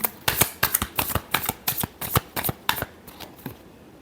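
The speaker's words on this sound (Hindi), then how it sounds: "Last shuffle." Tarot cards being shuffled up close: a rapid run of crisp, papery riffling bursts in a steady rhythm, tapering slightly toward the end, with no voices.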